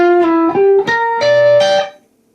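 A quick run of distinct electric guitar notes climbs in a fast arpeggio with pull-offs, slightly distorted and close, ending abruptly into silence.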